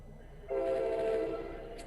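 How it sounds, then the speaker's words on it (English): A passing train sounds its horn, a sustained chord that begins abruptly and holds for over a second before easing off, moderately loud above low rumble. "Oh, by the way, that's a train."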